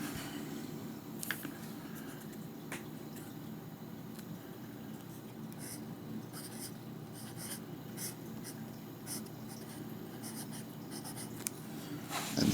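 Pelikan 200 fountain pen nib gliding across paper, a soft continuous scratchy rustle with a few faint clicks, close and quiet, no talking.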